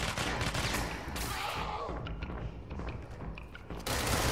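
Enemy gunfire in the game Control, a loud, continuous stream of rapid shots and bursts packed tightly over a few seconds.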